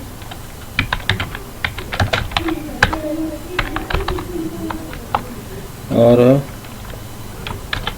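Quick, crisp clicks from a computer keyboard as a roll number is typed into a database, close and fairly loud, with someone speaking briefly over the keystrokes.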